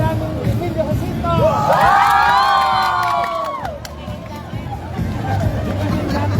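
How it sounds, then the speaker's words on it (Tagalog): A youth group crowd at a National Heroes' Day and Youth Month celebration in Jaen, Nueva Ecija, erupts in loud shouting and cheering with rising whoops, swelling over steady crowd babble and then easing back into general hubbub. "O sigawan, may palakpakan ng mga bayaning Emilio Jacinto."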